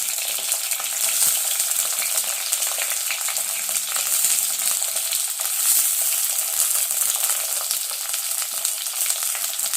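Onions and tomatoes frying in a pan for a Sri Lankan prawn curry, giving a dense, continuous loud sizzle that stays even throughout, close up, with faint stirring clicks and no speech.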